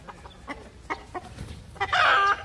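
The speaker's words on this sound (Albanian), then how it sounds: "Gjell! Qa gjelli?" A rooster on a farm gives several short, close clucks, then a loud, sustained crow at the end.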